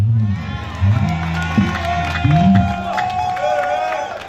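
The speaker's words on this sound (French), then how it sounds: "Cette annonce a été accueillie par une acclamation bien nourrie." A crowd cheers and acclaims a candidacy announcement for upcoming municipal elections in Port-Bouët, a loud, sustained mix of shouts and voices with some clapping, rising in bursts over a few seconds.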